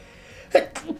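A single close sneeze, a sudden sharp burst followed by a short trailing breathy sound, after near silence.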